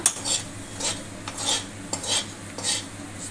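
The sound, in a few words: stirring masala in a pan until red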